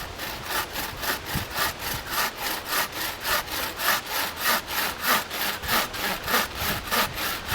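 A bushcraft bow saw cuts through a pushed-over poplar tree in steady, rhythmic back-and-forth rasping strokes, about two per second, close and continuous, without any talking.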